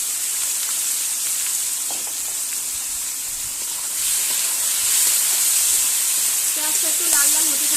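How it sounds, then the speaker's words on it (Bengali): Onions frying in very hot oil with dried red chilli, bay leaf and sugar in the tempering, giving a steady, loud hiss and sizzle that swells partway through, with occasional light scrapes. "এবার দিয়ে দেবো পেঁয়াজ তেলটা খুব বেশি গরম হয়ে গেছে"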